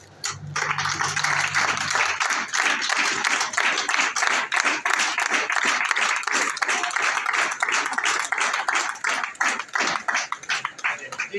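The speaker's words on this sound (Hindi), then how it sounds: "इनकी एरिया मैनेजर साहबा के लिए भी बहुत सारी तालियां होनी चाहिए" A crowd applauds steadily and loudly throughout, a dense continuous roar of many hands clapping at a ceremony welcoming a new area manager in the Sargodha zone, with a brief low hum at the start.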